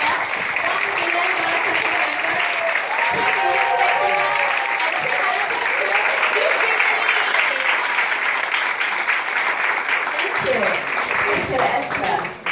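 Sustained applause from an event audience greets a guest on stage, steady dense clapping that fills the whole stretch at close range, with faint voices underneath.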